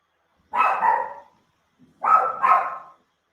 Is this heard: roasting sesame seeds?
no